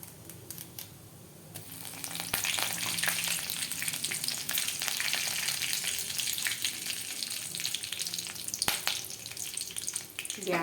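Mustard seeds and curry leaves hit hot oil for a mango roti pachadi tempering, bursting into a loud, steady crackling sizzle with sharp pops scattered through it, heard close and without talk.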